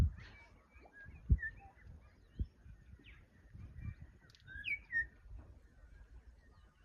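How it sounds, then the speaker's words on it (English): Several birds call from a tree near the ocean on a sunny day, with scattered whistles and chirps, faint and intermittent above low background rumble. "The birds are making all sorts of funny noises today up in that tree."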